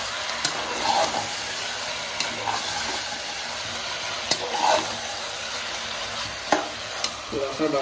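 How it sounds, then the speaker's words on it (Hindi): Chicken sizzles and fries in a pan on a home stove with a steady crackling hiss. Scraping stirs and a few sharp clicks of the spoon against the pan come through up close. "2 से 4 मिनट इसको पकाएंगे।"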